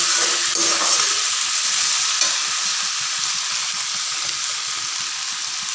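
Potatoes and chunks of raw banana sizzle steadily in a hot pan for a raw banana curry, a continuous close frying hiss with light stirring, no voices.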